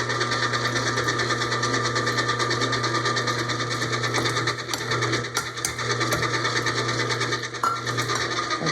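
Electric stand mixer whirring steadily on low speed while beating cake batter with ground almonds, a continuous close motor hum with faint rubbing and rattling from the bowl.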